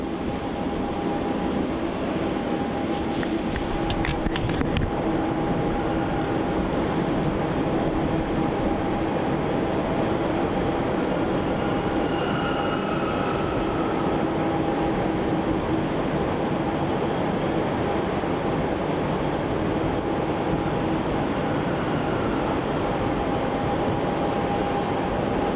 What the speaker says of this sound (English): the Garuda A330-300 arriving in from Denpasar as GA718 is about a minute now from touching down on runway 34